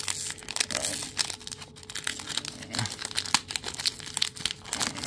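Foil wrapper of a trading card blaster pack is ripped open up close. Continuous crinkling and tearing crackle for several seconds, with no talk.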